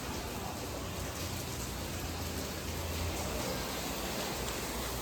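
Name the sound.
heavy rain falling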